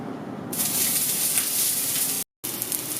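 Chopped onion hits a hot cast iron pan as the first of the vegetables for a breakfast frittata, setting off a loud, steady sizzle that bursts in after half a second and runs on with one brief dropout near the end.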